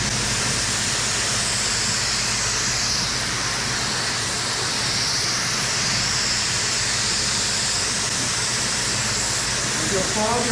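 A paint spray gun fogs a light coat of paint onto a new truck being repaired after tornado damage, giving a steady, loud, broadband hiss that runs without a break, with voices heard beneath it.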